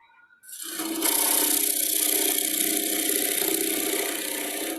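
On a wood lathe, a tool cuts away the tenon from a turned wooden camper's cup, giving a steady, close, hissing, scraping cut that starts abruptly and holds almost unchanged to the end.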